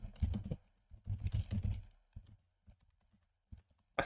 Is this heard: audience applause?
no